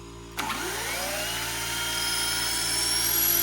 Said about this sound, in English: You could drill a hole in reverse if you tried hard enough.